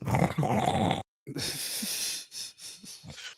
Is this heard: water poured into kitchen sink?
no